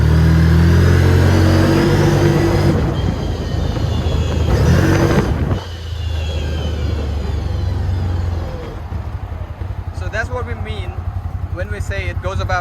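An open Aodes Sportcross 1000 UTV drives fast off-road. Its engine drone and rushing wind fill the clip, easing partway through, and a voice talks over the rougher running toward the end.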